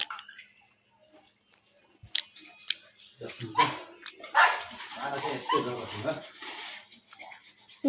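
A dog barks and yips a few times amid people talking; the barks come in short, sharp bursts, fairly close.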